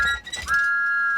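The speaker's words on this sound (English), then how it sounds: "he blew his whistle louder than ever" Cartoon steam engine whistle from Thomas & Friends, a loud sustained high-pitched toot that rises in and holds steady after a brief rustle.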